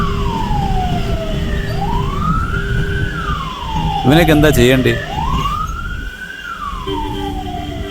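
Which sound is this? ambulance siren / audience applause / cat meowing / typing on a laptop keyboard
ambulance siren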